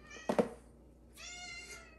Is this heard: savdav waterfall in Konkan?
no